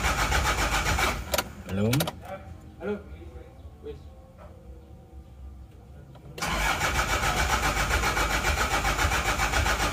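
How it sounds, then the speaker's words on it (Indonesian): A diesel Isuzu Panther 2.3 cranks on its starter in a long stumbling churn, then catches and settles into a loud, steady idle that fills the rest; someone says a brief word over it. "Biasanya agak lama ya kalau baru start karena solarnya masih belum naik"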